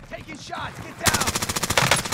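Rapid automatic gunfire bursts out in Call of Duty Warzone on Rebirth Island, a loud, steady rattle of shots filling the second half after a brief stretch of murky game noise and faint voice.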